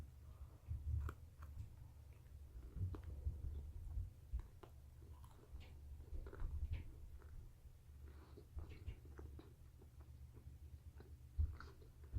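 Someone chews homemade savory pizza during a taste test, giving faint, close, irregular soft crunching and mouth sounds over a low background hum, with no speech.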